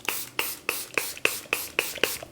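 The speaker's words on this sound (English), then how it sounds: "I'm gonna start off with the Gibson Girl Finishing Mist, and I'm gonna spray my entire face" Gibson Girl Finishing Mist setting spray misted over a face, eight short pump bursts in an even rhythm, each a brief close hiss that fades quickly.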